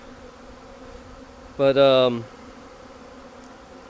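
A short, loud burst of bee buzzing rises for about half a second during installation of a package of bees into a hive, over a faint steady background hum, with a brief spoken word.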